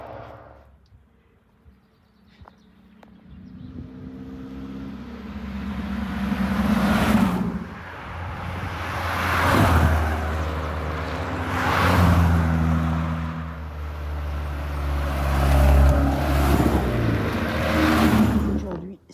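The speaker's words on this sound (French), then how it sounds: "on va passer des voitures du rallye du Forez" Rally cars from the Rallye du Forez in the Pilat hills pass at speed one after another, each engine swelling loud and revving hard as it nears and fades, with several fast passes in quick succession.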